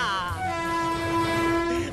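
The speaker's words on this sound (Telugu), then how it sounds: "ట్రైన్ కూడా దగ్గరికి వస్తుంది" A train horn blares in a long, steady tone over the rumble of an approaching train, loud and close.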